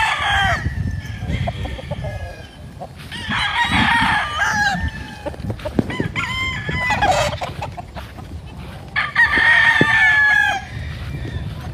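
Chickens cluck and squawk close by in repeated bursts, with a rooster's crowing mixed in amid shuffling and rustling.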